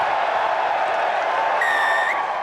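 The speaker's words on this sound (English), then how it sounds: "Just listen to the crowd." A rugby crowd roars for a try in a Marlins match, a dense, steady wall of cheering and applause throughout, with a whistle-like tone rising briefly near the end.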